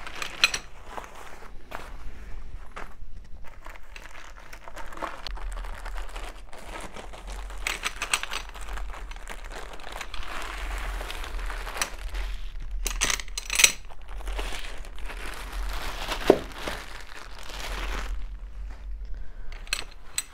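Thin plastic packaging bag for a Nurgaz three-legged camping grill crinkling and rustling as it is handled and opened, with scattered clicks and taps over roughly twenty seconds, moderately close.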